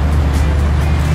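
A Volkswagen Vanagon drives away at a Pensacola cars and coffee meet, a loud, steady engine rumble with road noise filling the short moment, no talking.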